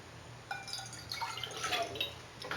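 A glass of water poured into a heated pan, ready for melting china grass, giving faint, brief splashing and dripping in short bursts with light trickling between them.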